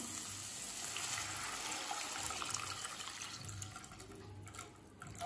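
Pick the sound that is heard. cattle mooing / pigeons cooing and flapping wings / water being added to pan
water being added to pan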